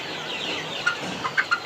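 Five-week-old Sonali hybrid chickens giving a few short, soft clucks close by, spaced irregularly over a quiet background with no talking.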